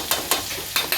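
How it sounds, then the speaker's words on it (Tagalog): Garlic and onion sautéing in a pan, a soft steady sizzle broken by four quick scraping stirs at uneven intervals, close and moderately loud with no voices. "Atin ang gigisahin."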